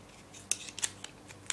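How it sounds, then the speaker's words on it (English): Several sharp plastic clicks and snaps, close and crisp, as the back cover is pressed onto a Samsung Galaxy Y phone, with quiet gaps between them. "Snap that back part on and turn it on"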